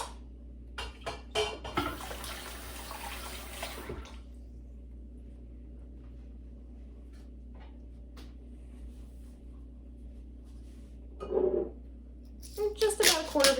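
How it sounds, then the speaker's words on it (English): A kitchen sink tap runs for a few seconds with a steady splashing rush while hands are washed mid-cooking, set against quiet room hum, followed by faint clatter. "Let me wash my hands, hang on."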